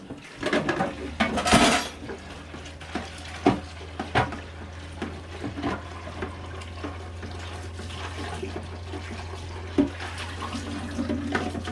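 Dishes washed under running tap water in a boat galley, with pots and cutlery clinking and knocking over a steady stream of water, close and with no talking.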